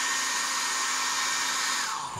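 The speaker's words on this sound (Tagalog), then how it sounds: "Magamit ako ng hair blower para mas madali yung drying time." A handheld hair blower runs steadily at close range, a continuous loud airy whoosh drying fresh paint on a small Gashapon collectible figure during a custom repaint, easing off slightly at the very end.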